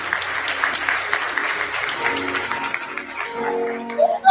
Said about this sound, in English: I want to hear if this is mostly women clapping for this bullshit.